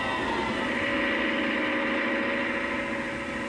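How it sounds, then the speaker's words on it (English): A Leyland tractor engine runs steadily on a dynamometer, giving a constant, loud mechanical drone with a buzzing harmonic tone and no change in speed. "Here, a tractor is coupled to a dynamometer to check that power output is up to specification"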